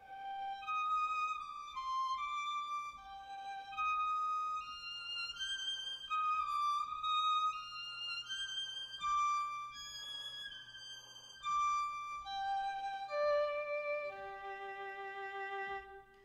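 A virtual violin sample library plays a soft, continuous legato melody at very low velocity on its quiet piano layers, sustained notes gliding one into the next for the full stretch with a faint steady low hum underneath.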